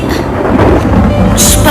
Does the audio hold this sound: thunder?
yes